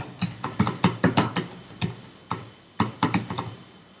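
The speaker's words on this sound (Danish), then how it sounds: "Vi skriver kundens navn ind" Someone types on a computer keyboard while entering a customer name into business software, producing quick bursts of crisp, close key clicks in uneven clusters with short pauses between.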